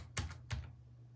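Two quick keystrokes on a computer keyboard as a value is entered for a machine control, close and crisp, then quiet.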